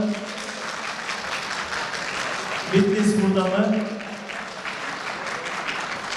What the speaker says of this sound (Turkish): biz alkışlıyoruz